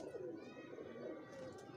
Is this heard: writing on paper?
no